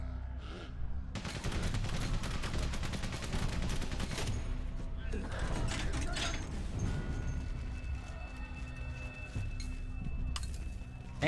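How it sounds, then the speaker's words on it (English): Sustained distant gunfire in a World War I battle scene in Valiant Hearts: The Great War, a dense continuous rattle of shots with mechanical clatter throughout, no talking over it. "we wait for the shooting to end"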